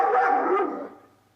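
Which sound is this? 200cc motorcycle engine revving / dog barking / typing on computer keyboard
dog barking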